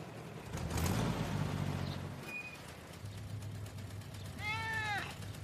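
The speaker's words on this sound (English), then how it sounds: "He's not really a bad cat." A cartoon house cat meows near the end of a children's animated scene, a short rising-falling call with a clear harmonic stack. Earlier a voice and background music fill the scene.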